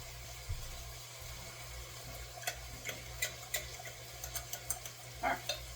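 A spoon stirring instant mashed potato flakes with lactose-free milk in a pot, a series of soft clicks and scrapes in an irregular rhythm over a low steady hum, close and quiet with no talking.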